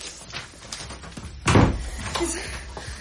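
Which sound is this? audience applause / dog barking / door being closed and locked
door being closed and locked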